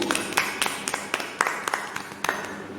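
A church congregation claps in welcome during a prayer service, a run of sharp, irregular hand claps at moderate loudness, spaced unevenly over a few seconds.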